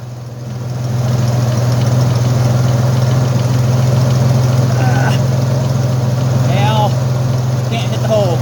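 A 1983 Ford Mustang's carbureted 3.8 V6 idles with a loud, steady low hum, heard close throughout, with occasional faint squeaks and clinks of work nearby.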